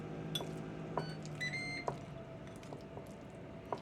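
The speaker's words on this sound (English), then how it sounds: "The air fryer went off" An air fryer sounds its quiet finishing beeps, several short tones over faint kitchen clatter and background noise, at a low level with no speech.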